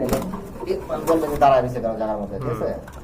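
Lahori pigeon cooing in low, throaty murmurs at a pigeon sale, close by and mostly beneath someone talking over it for about three seconds.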